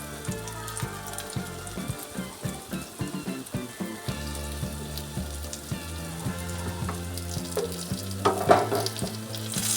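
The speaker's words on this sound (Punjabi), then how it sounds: "ਇਹਨੂੰ ਅਸੀਂ ਇਸ ਤਰ੍ਹਾਂ ਹੀ ਤਵੇ ਤੇ ਫਰਾਈ ਕਰਾਂਗੇ" Brinjal slices fry on a tawa with a close, bubbling sizzle and irregular spitting pops that swell and fade, over a low, steady tonal background.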